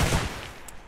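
A gunshot in the video game Receiver 2, heard as a loud blast at the very start that quickly fades into a ringing decay.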